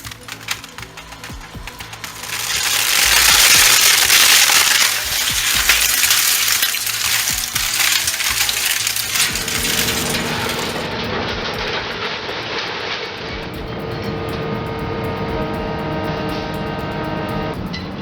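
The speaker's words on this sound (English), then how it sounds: "Watching old keyboards get crunched is oddly satisfying." Industrial shredder crunching old computer keyboards, a loud, dense clatter of snapping plastic and rattling keys that grinds on continuously, then settles into a steadier mechanical churn with a faint hum.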